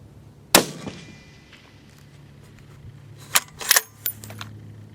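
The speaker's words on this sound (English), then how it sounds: "those are 3 rounds with the bubble level in the center" Three rifle shots from a scoped rifle fitted with a Nightforce anti-cant level, fired at a shooting range: one sharp loud crack, a pause, then two cracks close together, with faint outdoor background between.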